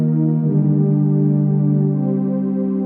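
A TB-303 style bass synth running through an Ableton chain, holding a buzzy sustained tone whose pitch bends and modulates over a few seconds, played alone without voices.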